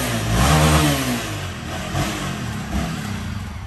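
A motorcycle engine revs up loudly at the start, then settles into a lower, rumbling idle with small surges.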